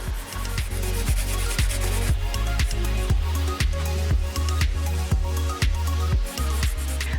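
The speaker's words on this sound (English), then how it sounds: "I'm using 320 grit sandpaper on the scratches first." Hand sanding scratches on a carbon fiber spoiler with 320 grit sandpaper wrapped around a small pad, a close, rhythmic rasping of quick back-and-forth strokes, repeated steadily with no voices.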